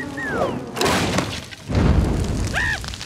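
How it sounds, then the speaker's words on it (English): A cartoon smash as characters crash into a termite mound: a loud shattering boom and crunching debris, then a second heavy crash, with brief whistling cartoon sound effects around it. "George, you smashed them into a termite mound."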